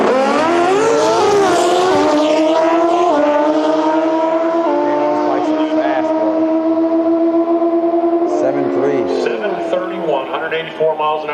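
A drag racing car launches at full throttle at Sydney Dragway during the Gulf Western Oil Nitro Champs, its engine a loud, sustained howling scream that slowly fades as it runs away, with a commentator talking over it.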